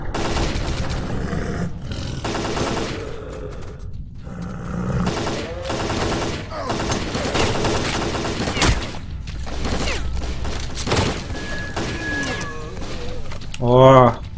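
Automatic rifle fire in the S.T.A.L.K.E.R.: Call of Pripyat video game comes in loud, rapid bursts and scattered shots across the span, mixed with game noise, with someone talking over it.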